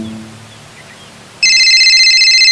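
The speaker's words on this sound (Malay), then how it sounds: "Oh, telefon je." A telephone rings loudly and steadily after a quiet stretch, its bright electronic tone repeating in a fast warble, close by, with no talking over it.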